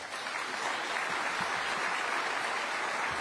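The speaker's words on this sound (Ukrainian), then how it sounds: "Оплески." Summit audience applauding during a speech, a dense, steady wash of clapping from a large crowd that holds at an even level for the whole stretch with no voices over it.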